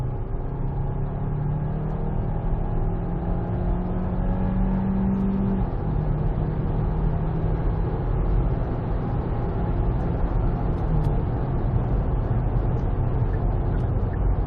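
Hyundai Santa Fe PHEV in Eco mode accelerating at full throttle up a highway on-ramp, heard from inside the cabin: a steady, loud low engine and road drone with a rising tone, continuous with no talking.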